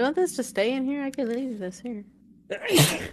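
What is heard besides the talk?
sneeze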